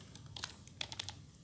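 Keys tapped on a computer keyboard while HTML is written in the VS Code editor: a handful of quiet, scattered clicks over a low steady hum.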